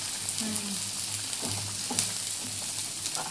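Continuous hiss of crushed garlic frying in hot oil, close up, with light crackling and a faint brief voice-like tone early on.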